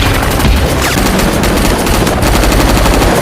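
Dense, loud automatic gunfire from a Terminator film scene rattles continuously in rapid bursts, filling the whole stretch with harsh, overlapping shots.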